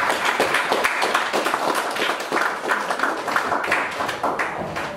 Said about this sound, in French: Donc, Jean-Baptiste, Bokoto, sous vos applaudissements.